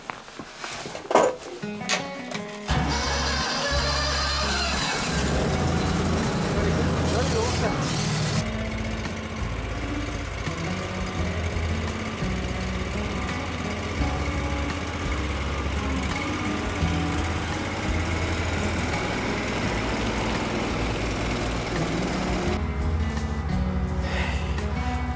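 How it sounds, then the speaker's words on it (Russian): A second all-terrain vehicle's engine cranks a few times and catches, then runs as a steady, loud, close rumbling idle, with brief talk and handling noises before it starts. "проверить, заведется ли наш второй вездеход"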